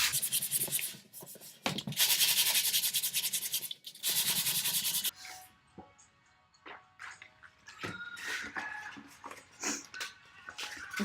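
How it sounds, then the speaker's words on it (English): Hand sanding wooden furniture to prepare it for paint, with several long bursts of harsh scratchy rubbing strokes followed by quieter intermittent scraping, brushing and handling noises close by. "And back to sanding."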